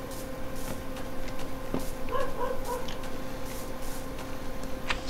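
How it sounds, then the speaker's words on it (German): A dog barks outdoors somewhere in the distance, giving a few faint yips that sit under a steady hum of video game background sound. "Draußen der Hund bellt auch schon wieder rum."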